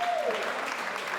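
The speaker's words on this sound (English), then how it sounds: "Let's clap for Samuel." A panel-discussion audience at a Barcamp event in Koforidua, Ghana, clapping for a speaker, a brief, dense burst of applause filling the room with no pauses.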